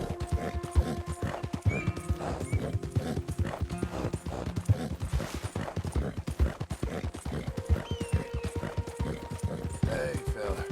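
A horse in Red Dead Redemption 2 trots with a steady clip-clop of hooves and lets out whinnies and snorts, close and continuous, while someone speaks softly now and then.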